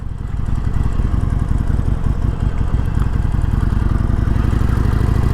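A Harley-Davidson Forty-Eight motorcycle engine idles loudly and steadily nearby, a constant low rumbling throb with no pauses.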